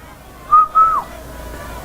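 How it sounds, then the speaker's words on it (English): A man whistles two short clear tones at a political meeting, the second slightly longer and gliding down at the end, close and alone over quiet background. "I will whistle."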